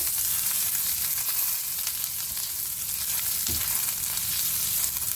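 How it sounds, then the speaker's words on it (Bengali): Chopped ginger fries with white cumin in a home kitchen pan for urad dal, giving an even, close hiss of hot oil with one brief thud of a utensil partway through. "আদাটা একটু ভাজা ভাজা হতে দিতে হবে"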